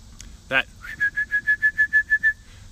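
A recall whistle used in training a bird-hunting puppy gives a burst of rapid trills, followed by a steady series of about ten short, evenly spaced shrill pips, close and clear over a faint outdoor background.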